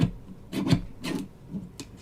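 Rough scraping strokes as a frosted gingerbread card edge is trimmed, three or four short rasping passes close by with brief pauses between them, no talking.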